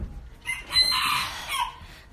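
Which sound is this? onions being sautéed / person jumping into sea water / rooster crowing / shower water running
rooster crowing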